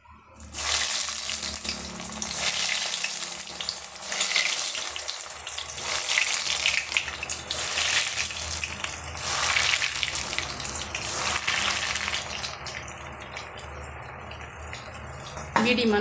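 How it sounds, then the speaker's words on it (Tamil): Bread and potato cutlets frying in hot oil over medium heat, a loud, continuous bubbling sizzle that holds steady throughout and eases slightly near the end. "கட்லட் பொரிச்சு எடுக்கிறதுக்காக ஆயில் சூடு பண்ணி வச்சுருக்கேங்க"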